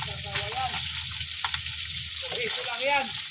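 Fish frying in a pan with hot oil, a steady close sizzle running throughout while a person talks over it.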